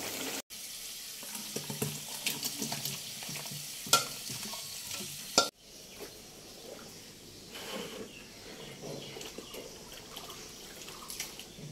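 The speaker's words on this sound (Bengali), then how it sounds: "আর এইখানে আমি দিয়েছি একটু মাথাটা ভাজতে" A fish head fries in oil in a home kitchen, a steady crackling sizzle with stirring clatter, interrupted by a sharp break before the frying continues alongside faint water-like noise.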